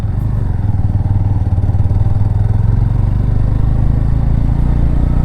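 A motorcycle engine droning steadily and loudly at close range on a Sunday ride, with a constant low rumble and faint clatter throughout, no voices.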